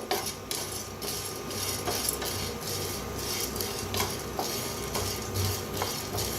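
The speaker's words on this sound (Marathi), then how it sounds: "तर पहिला हरभऱ्याची डाळ घातली बघा, हलवत असं भाजून घेऊया" Chana dal dry-roasting in a pan is stirred with repeated scraping and rattling strokes, a rhythmic clatter of a utensil against metal, close and fairly quiet, running throughout.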